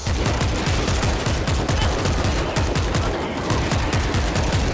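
Gunfire in the PC zombie shooter World War Z, New York episode: dense, continuous rapid-fire automatic shots with heavy low thuds, loud and relentless for the whole stretch with no break.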